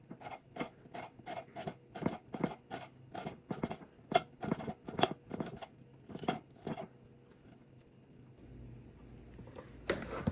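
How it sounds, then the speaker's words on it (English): Onions are sliced into halves for a green tomato and onion salad, giving a quick run of sharp, close knife cuts against a board, then a pause and one last chop. "My onions, I'm going to cut into halves."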